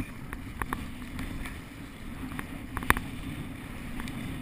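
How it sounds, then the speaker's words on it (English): A low rumble of wind and water with scattered soft splashes and knocks of a kayak being paddled, under steady wind noise. "now we just paddle out to where the bait can be effective in deep water."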